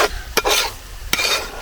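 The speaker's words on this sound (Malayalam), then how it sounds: "നല്ലപോലെ ഇളക്കി" A spoon scrapes around a pot of chicken curry with coriander powder twice, with a soft sizzle in between, close and fairly loud.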